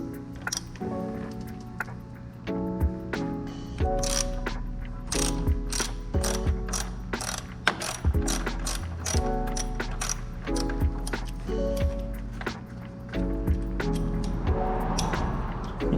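Hand ratchet working the triple clamp bolts on an Aprilia RS 660 motorcycle: repeated bursts of crisp metallic clicking, close and loud, with brief pauses between strokes and no talk.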